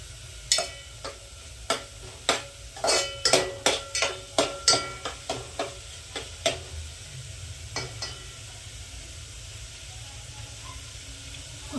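Pav bhaji ingredients, onion among them, are stirred in a pan, a spoon scraping and knocking in a quick series of distinct strokes over a low sizzle, then thinning out to a few sparse taps.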